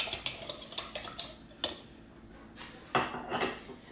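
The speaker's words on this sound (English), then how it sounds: "I'm just gonna whisk those together." Three eggs are whisked together in a bowl for baked oatmeal. A quick run of light metallic clinks and taps comes first, then a brief pause and a few louder knocks, all close and fairly quiet.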